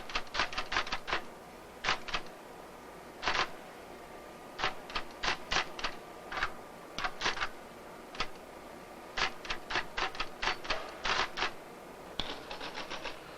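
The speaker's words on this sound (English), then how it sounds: "I'll type this." Rapid bursts of clicking keys on a keyboard come in irregular clusters with short pauses between, close and crisp over a quiet background.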